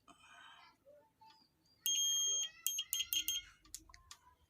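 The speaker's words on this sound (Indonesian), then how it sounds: "Kita pakai buzzer biar lebih mudah kalau ada yang short ketahuan." A multimeter continuity buzzer sounds while diodes on a TV regulator board are tested: one sustained high beep, then a run of short, quick, irregular beeps, all close and fairly quiet against faint background noise.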